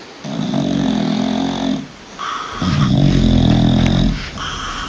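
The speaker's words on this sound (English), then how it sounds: "A snoring puppy can be annoying" Two long, loud snores from a puppy, each a rough rumbling breath lasting over a second, with a short pause between them.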